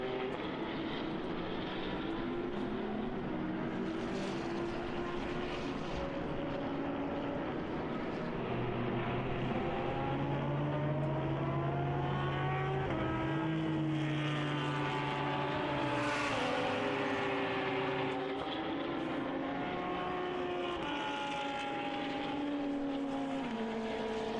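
Endurance race cars in the FIA CEZ D4/D5 and P9 classes lap the Red Bull Ring. A continuous engine drone carries several rising and falling pitch sweeps as cars pass, with no voices.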